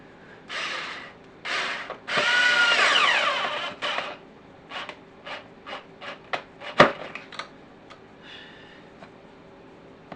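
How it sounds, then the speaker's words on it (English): A power screwdriver drives screws into the wood of a guitar being built from scratch, giving a few long whirring bursts followed by a run of short, sharp clicks and taps, close and loud in a quiet room. "Got my power screwdriver."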